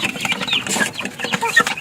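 A backyard rooster with blue legs clucks in short, repeated bursts close by, with other fowl sounds mixed in across the moment.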